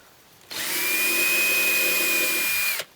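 A power drill bores a starter hole for a screw in the soft particleboard of a Walker Edison desk, giving one steady high whine of about two seconds that starts and stops abruptly, close and loud.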